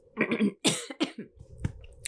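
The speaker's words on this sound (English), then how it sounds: "I have a little bit of a dry cough, so excuse me." A few short dry coughs and throat-clearing sounds in quick succession, close up and fairly quiet.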